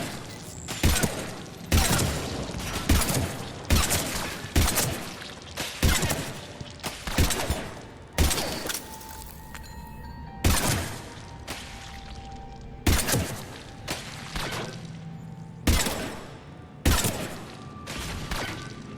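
Rapid bursts of gunfire in the video game Mass Effect 3, sharp loud shots in irregular clusters, some in quick doubles, with booming impacts and electronic game tones between them.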